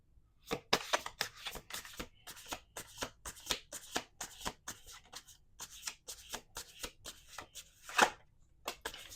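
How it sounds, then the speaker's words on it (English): Playing cards being shuffled in quick riffling bursts, repeated several times with short pauses, close and crisp with no talking. "We're going to do 2 more shuffles."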